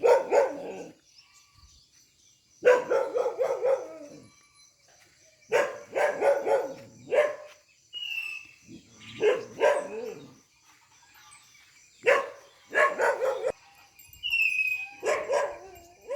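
A dog barks at home on a morning after heavy rain, in repeated bursts of several sharp barks separated by short quiet gaps, fairly close and loud with faint birdsong behind.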